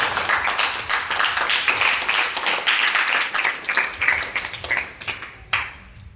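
Grades 6 to 8 students in a school assembly hall clap loudly together in quick rhythmic bursts; the clapping stays strong, then thins into scattered claps near the end.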